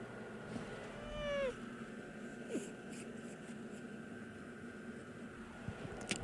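A cat gives a single short, rising meow close by in a quiet room, followed by faint scattered rustles and taps.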